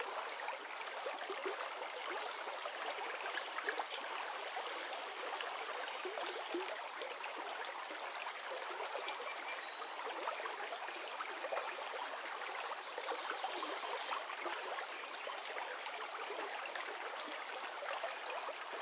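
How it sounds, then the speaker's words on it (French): Water of a small stream winding over stones, a steady close babbling and trickling that stays even and continuous throughout, with no voices. "le doux son de l'eau qui serpente entre les pierres et suit son cours"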